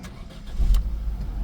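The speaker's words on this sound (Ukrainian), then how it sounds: "Зараз всі завантажуються, будемо запускати двигун." A 2004 Opel Astra H with a 1.4 petrol engine starting: a brief crank, then the engine catches with a low rumble and settles into a steady idle, close by and alone.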